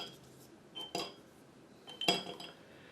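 Cinnamon sticks drop into a glass bottle while homemade Fireball-style bourbon is prepared, giving two or three sharp, close glassy clinks and knocks with quiet pauses between.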